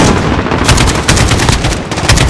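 Rapid gunfire in the video game Call of Duty: Modern Warfare, loud close bursts of repeated shots in quick succession, almost machine-gun-like, with no talk over them.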